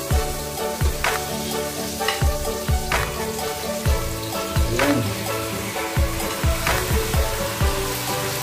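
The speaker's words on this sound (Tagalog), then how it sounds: "para gigisanin natin." Steady sizzling of chicken sautéing in a hot pan for tinola, with occasional clinks and stirring scrapes, loud and close, no talking.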